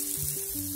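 Onion fries in a hot pan with garlic butter for a corned tuna pasta, a brief burst of steady sizzling under background music.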